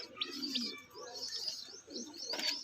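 Low coos of a Chennai-breed pigeon repeat in short bursts, mixed with scattered high bird chirps, fairly close and moderately loud.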